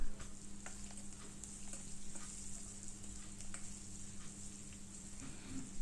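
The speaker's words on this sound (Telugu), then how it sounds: "కొంచెం పసుపు వేసేసుకొని ఫ్రై చేసేసుకోవాలి." Vegetables frying in a pan with turmeric and garlic paste make a soft, continuous sizzle with light stirring ticks scattered through it, faint and close.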